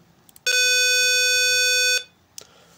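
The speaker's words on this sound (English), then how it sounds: "Here you can see the buzzer sound." A simulated 5 volt buzzer in Proteus sounds one steady, loud electronic tone lasting about a second and a half, then cuts off abruptly, leaving only faint clicks.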